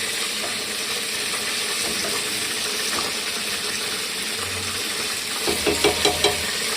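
Penne pasta is stirred in a pot on the stove, a steady bubbling and sizzling wash with a few close scraping knocks near the end, no voices.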